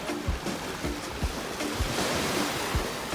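Waves wash onto a beach in St. Kitts, a steady rushing surf with repeated soft breaking swells and some wind noise against the microphone.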